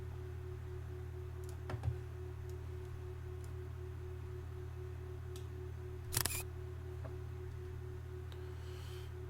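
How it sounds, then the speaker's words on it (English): A camera shutter clicks twice during a screen capture, two sharp, brief snaps a few seconds apart over a quiet, steady hum. "Sorry for the shutter noise."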